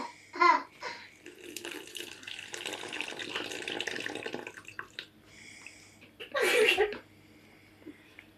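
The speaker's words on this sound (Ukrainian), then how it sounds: "а тепер наливаємо 50 мл води" Fifty millilitres of warm water poured for a yeast experiment, a close trickling and splashing pour heard in bursts, with a few clinks and people talking nearby.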